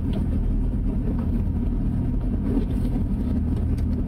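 A Mercedes-Benz C200 W202 car rumbles along at low speed into a narrow alley, its engine giving a steady, close, continuous low drone with no one talking.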